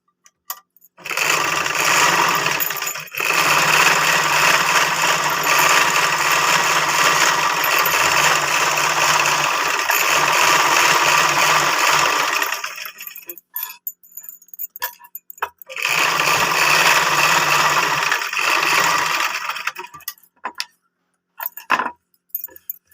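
Sewing machine stitching blouse cloth, long continuous runs of fast mechanical whirring broken by a short pause, then stopping with scattered clicks and handling of fabric.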